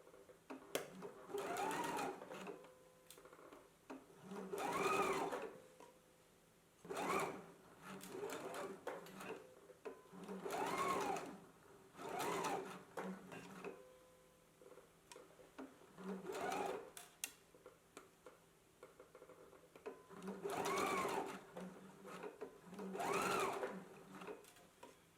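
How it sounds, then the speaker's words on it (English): A sewing machine runs in repeated bursts of rapid stitching, each a few seconds long, separated by short pauses and faint handling noises. "I'm going to go to the sewing machine."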